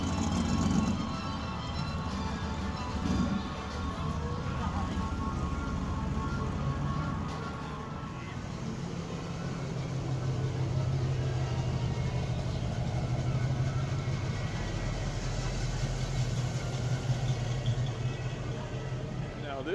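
A Mercury Comet race car idles on a street during an old town cruise night, its engine a steady low rumble with a slight lope that swells a little as it rolls in, under faint background talk.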